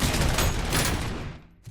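Rapid gunfire from the RoboCop video game, a dense continuous burst of shots that fills the first second and a half loud and close, then thins out and fades, with one brief late report.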